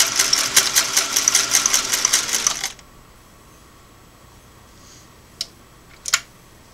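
A Singer Model 503A twin-needle sewing machine runs a fast, steady straight stitch for a few seconds, then stops, followed by a couple of faint clicks and a small handling knock.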